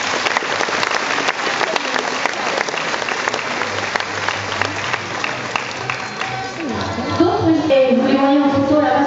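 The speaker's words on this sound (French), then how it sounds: "je pense qu'on peut l'applaudir." Audience applause for a gymnast at a club gala, steady crowd clapping for several seconds before an announcer's voice comes in over the fading claps.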